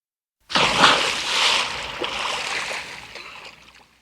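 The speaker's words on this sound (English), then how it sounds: "Splash." A single splash of water starts abruptly, then sloshes and trickles away over a few seconds.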